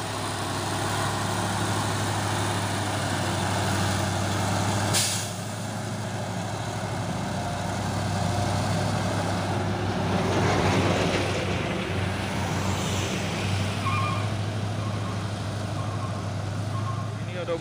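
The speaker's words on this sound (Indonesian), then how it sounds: "Masuk lagi nih truk box Anugerah Mandiri Transport." A box truck drives on an Indonesian road: a steady low engine drone and rumble fills the clip, with a sharp clunk partway through, traffic noise swelling near the middle and faint intermittent tones later.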